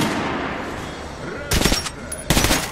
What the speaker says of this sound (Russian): Артём, испытай-ка остальные пушки.